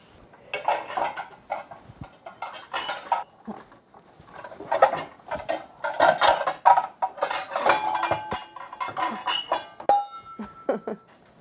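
Ceramic bowls and dishes clatter and clink in a home kitchen while a baker gets a bowl out for a cake, with repeated close bright knocks and scrapes at an irregular rhythm.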